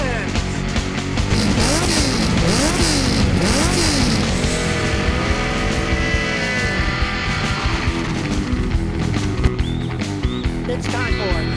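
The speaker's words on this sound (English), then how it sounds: "Rev up your engines!" A loud engine revs up and down in sweeping pitches, roaring and whining like an accelerating car, with an energetic backing mix throughout.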